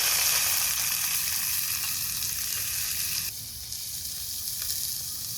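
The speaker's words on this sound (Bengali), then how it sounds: "কড়াইতে দিলাম সাদা তেল, সব কিছুই পলে নিচ্ছি" Vegetables fry in white oil in a wok with a loud, continuous hiss and crackle that eases slightly partway through.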